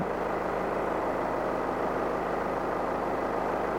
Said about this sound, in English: Straight away we hear the engine note change, and we see the system pressure rising.